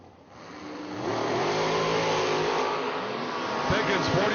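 A 2007 dragster launching down a drag strip at a bulb nationals event, a loud sustained engine roar that swells quickly and holds at full power, with an announcer's voice under the din.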